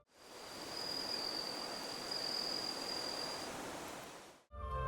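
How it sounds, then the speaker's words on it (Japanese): A bell cricket kept in a wooden box at a house entrance chirps in Animal Crossing, a steady high-pitched ring over a dense, continuous hiss of game ambience that stops abruptly near the end. "玄関の木箱にはスズムシを置いて、"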